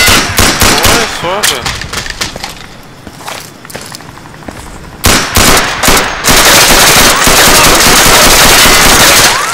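Loud gunfire in the video game Insurgency: rapid automatic bursts and single cracks, with a short lull before heavy sustained firing resumes. Players talk over the shooting.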